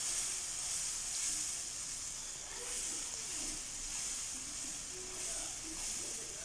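Egg gravy with tomato paste simmers in a pan over high flame, giving a soft, constant hiss and sizzle with faint bubbling pops, heard alone and fairly quiet.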